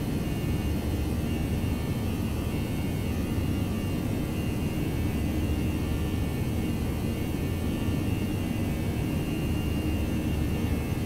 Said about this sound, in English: This plane's a little bit loud.